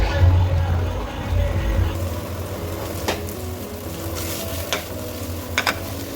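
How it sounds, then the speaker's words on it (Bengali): Fried potatoes tossed and stirred through sizzling masala in a pan for dum aloo, with a steady frying hiss broken by a few sharp scraping and clinking strokes of the spoon near the end. "এবার এতে আমরা ভেজে রাখা আলুগুলোকে দিয়ে নিচ্ছি, দিয়ে আমরা এটাকে ভালোভাবে আলুর সাথেও কষবো 5 থেকে 10 মিনিট।"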